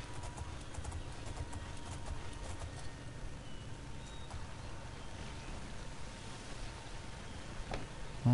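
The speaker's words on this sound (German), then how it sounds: "Ich werde mit meinem Pferd nicht ins Wasser reiten." Faint, steady clip-clop of horse hooves while riding in the video game The Elder Scrolls IV: Oblivion, over a soft ambient background.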